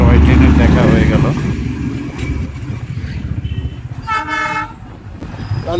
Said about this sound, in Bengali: টয় ট্রেনের দেখা হয়ে গেল।